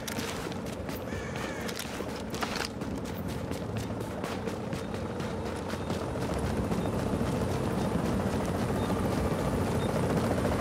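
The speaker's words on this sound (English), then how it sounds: "See the helicopter above." A helicopter hovers over the extraction zone in The Division, giving a steady, loud rotor roar with rapid chopping that continues unbroken throughout.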